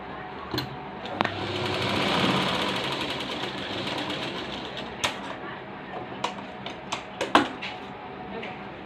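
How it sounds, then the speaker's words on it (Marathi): A sewing machine runs steadily, stitching down a tuck on a yoga belt, with a continuous mechanical whir, then fades into scattered clicks and taps as the fabric is handled. "हा टक्स थोडा असा कापून याच्यावर शिलाई मारायची।"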